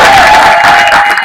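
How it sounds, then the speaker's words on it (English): Audience applause with some cheering from a crowd at a bookstore event, loud and continuous throughout the short burst. "Clap it up for this guy right here"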